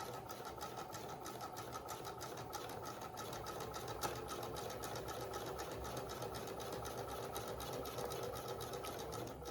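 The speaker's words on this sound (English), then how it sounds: "I'm going to back stitch, and then I'm going to sew down the thing" A sewing machine sews down fabric tucks, running continuously with a soft, even mechanical hum and rapid needle ticking throughout, fairly faint and with no voice.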